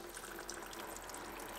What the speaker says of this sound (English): I just loosen it up a little bit and it starts pouring out of there.